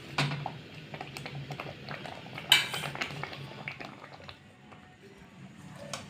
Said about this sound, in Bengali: এবারে আমি আমটাকে একটা পাত্রতে নামিয়ে নেব।